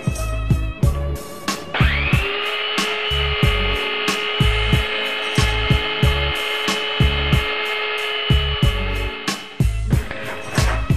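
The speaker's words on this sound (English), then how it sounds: "start sanding to whatever size you want after it's cut." Wood is hand-sanded to shape a fishing float, heard as a rhythmic back-and-forth rasping in quick regular strokes over a steady high whine, close and loud.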